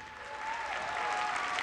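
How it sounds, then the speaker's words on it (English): Applause from an audience at a Sony Paris Games Week press conference, a brief, steady wash of clapping that swells slightly, heard a little distant. "give me a really big round of applause for all the news"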